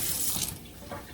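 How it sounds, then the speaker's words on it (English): Hands rinsed under a running kitchen tap, a close, steady rush of water that splashes louder at first and then eases slightly for about a second. "Let me rinse my hands off."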